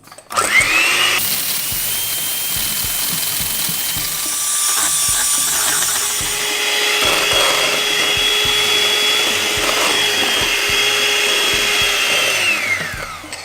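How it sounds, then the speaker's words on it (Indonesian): An electric hand mixer whirs steadily at high pitch as it whips cake batter with eggs and vanilla until thick and white, loud and close, starting and stopping with clicks at either end, with no talking. "Dan saya akan ambil mixer. Nah, ini akan kita kocok sampai mengental ya, kira-kira 10 menit."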